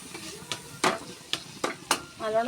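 Bitter gourd sautés in oil in a pan, a steady soft sizzle broken by five or six sharp scraping stirs spaced roughly half a second apart, close and clear.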